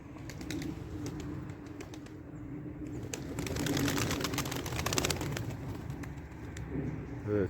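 Tumbler pigeons coo softly over a steady low rumble, with scattered clicks and rustling nearby; the cooing stays low and continuous throughout.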